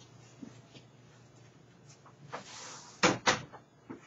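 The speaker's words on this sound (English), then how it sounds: "I gotta close my door." An office door swings shut with a couple of sharp, close thuds, preceded by quiet shuffling and handling noises in a small room. No talking is heard.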